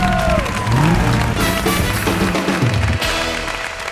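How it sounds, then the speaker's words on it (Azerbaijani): A TV game show studio audience claps loudly and continuously, blended with busy music. "Alqışlayırıq"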